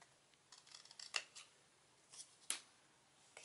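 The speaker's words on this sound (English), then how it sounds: "we're going to use it as our pattern to cut the bottom layer, and then do the same from the side here." Scissors snip through paper cardstock while shaping a display easel for cards and photos, a few short crisp cuts spaced out across a quiet background.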